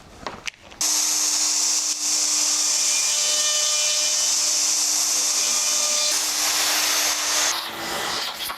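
A router fitted with a copy ring and an 8 mm bit cuts hardware holes into a veneered door, giving a loud, steady high-pitched whine for about seven seconds that changes tone near the end, with no talk.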